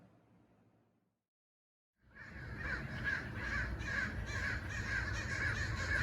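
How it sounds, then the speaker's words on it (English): Crows caw repeatedly outdoors in a steady run of loud, harsh calls that begins after a brief silence, with faint low rumble beneath. "There's too many crows."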